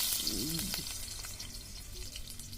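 Chopped garlic drops into three ladles of hot oil in a kadhai on a wood-fired stove, tempering for dill (shepu) bhaji, giving a steady broadband sizzle with a brief murmur of voice near the start.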